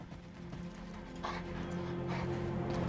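A dog whimpering in the video game Mad Max, a thin, strained whine that rises in and out over steady low vehicle hum and game ambience, with no talk.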